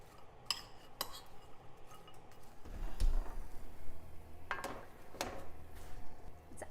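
Sweet potato and quinoa are tossed with salt in a pan, giving light metallic clinks and scrapes of a utensil against cookware, with a soft rustling sizzle that thickens midway, close and fairly quiet.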